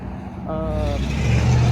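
A race car passes at the Tulsa Shootout, its engine building from a low rumble to a louder, nearer roar over a couple of seconds, with a brief tonal whine early on.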